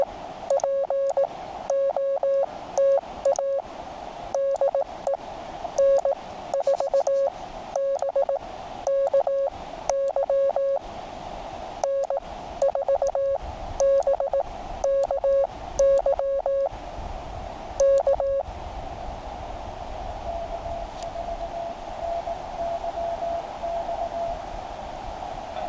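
Morse code tones on HF radio in the Smoky Mountains, rapid bursts of dits and dahs in a single steady pitch over faint static hiss, keyed in rhythmic groups that stop partway, leaving only quiet noise.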